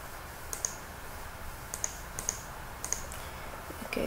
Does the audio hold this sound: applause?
no